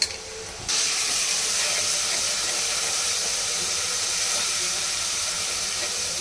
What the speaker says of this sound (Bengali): ছোট এলাচ আর দারচিনি আর পেঁয়াজ ভাজা হচ্ছে